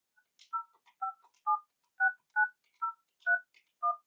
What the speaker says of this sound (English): After you've dialed the 10th digit, the phone will automatically complete the call for you.